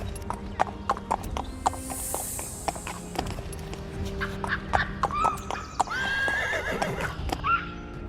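A king's loyal horse clip-clops along at a steady walk, hoofbeats sharp and close, with a whinny rising toward the end over faint rural ambience and birds.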